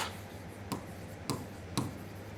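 Marker or chalk strokes on a board during an English grammar lesson, three distinct scratchy taps spaced about half a second apart over a steady hum, close and moderately quiet.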